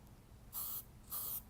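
Two short bursts from a spray paint can, each about a quarter second long, evenly spaced with a brief pause between, close and fairly quiet with no voices.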